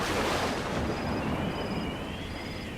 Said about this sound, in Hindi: बाहर अभी भी हवा चल रही है।